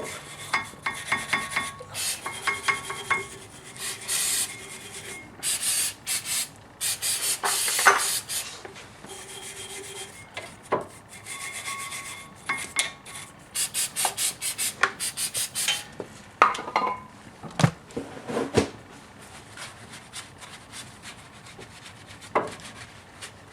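Scrubbing, rubbing and short spray bursts inside the brake caliper of a 1997 BMW 528i E39, coming in irregular rasping strokes with brief pauses, close and fairly loud, with no talking.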